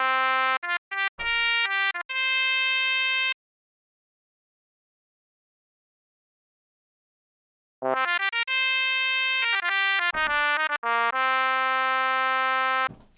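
A trumpet sample turned into a synth wavetable in Phase Plant plays bright, buzzy brass-like notes, short stabs then sustained tones, with a long silent gap before a second phrase of rising and held notes.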